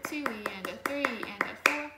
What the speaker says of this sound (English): I'm gonna clap it and say it.